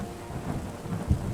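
Rain falls with a low rumble of thunder in the video game Terra Nil, a soft steady patter under a brief deep thunder roll, quiet and short.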